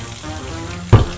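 Hot water runs from a kitchen tap while a cast iron pan is cleaned, a low steady trickle that swells into a brief louder gush near the end.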